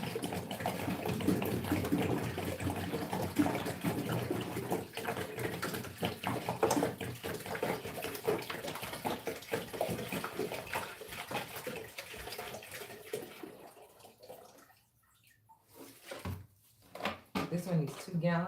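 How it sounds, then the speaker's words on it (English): Water poured into the tank of a Gardyn hydroponic planter runs as a steady splashing trickle for several seconds, then stops into near silence before some handling clatter, with a person talking over parts of it. "You add the water."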